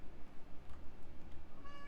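A house cat meows indoors near the end, a short, clear, close call after a stretch of quiet room noise.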